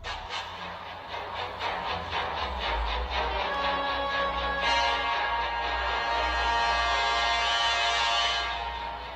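Recurring melody from a film soundtrack, played as a steady, sustained orchestral passage at even loudness with no talking over it.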